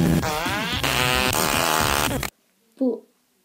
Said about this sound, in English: I mean, it's pretty good, it's like a fart song.